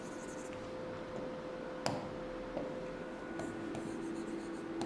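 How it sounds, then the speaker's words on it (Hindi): A teacher writes on a classroom board during a Class 6 maths lesson, making quiet scratchy strokes punctuated by a few light taps, with no talking. "kg ऐसे लिख देती हूँ मैं"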